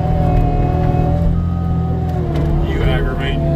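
A skid steer's diesel engine drones steadily and close while it clears snow, with a faint rising mechanical whine near the end.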